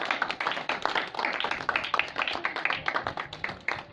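Applause from a congregation at a Good Friday church meeting, a dense, steady patter of many hands clapping close by for the full stretch, with scattered sharper claps standing out.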